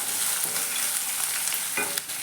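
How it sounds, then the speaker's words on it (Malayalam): Onion, green chilli and garlic sautéing in a pan: a loud continuous sizzle with stirring scrapes, close and without talk. "ഉള്ളിയും പച്ചമുളകും വെളുത്തുള്ളി അല്ലിയെല്ലാം നന്നായിട്ടൊന്ന് വഴറ്റിയെടുക്കാം"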